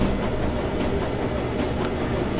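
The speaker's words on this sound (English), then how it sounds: "Yeah, I'm on the train back to the Kreutz Bazaar." Steady train-ride ambience in the cyberpunk game Shadowrun: Dragonfall, a continuous low rumble with faint rhythmic wheel clatter, even and unbroken throughout.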